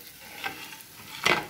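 Egg and onion omelette cooking in a pan, a soft low sizzle with two brief scraping or stirring touches.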